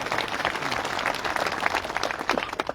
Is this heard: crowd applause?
yes